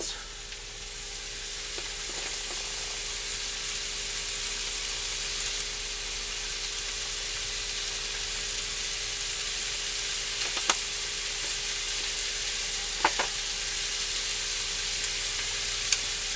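Chicken tenders sizzle steadily in a pan, a constant bright hiss with a few faint clicks and pops scattered through it.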